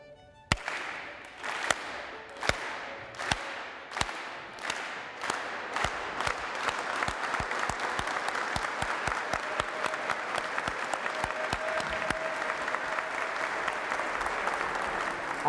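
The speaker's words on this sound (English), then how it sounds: "In honor of London, I'd like for everybody to get together with a slow clap" Sharp single claps start slow and evenly spaced, then quicken into a building round of crowd applause at an award presentation, with faint voices underneath.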